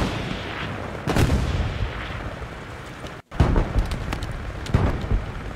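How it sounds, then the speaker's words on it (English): Gunfire and artillery booms in the World War II shooter game Hell Let Loose, loud close bursts and heavy thuds rolling through a noisy battle ambience, with a brief dropout midway. "I'm getting shot at."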